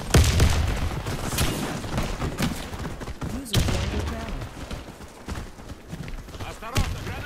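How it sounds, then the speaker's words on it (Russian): Grenade bursts and gunfire in the video game Warface, sharp booms and rattling shots in a busy, dense mix under radio callouts and talk. "Кидаю гранату!"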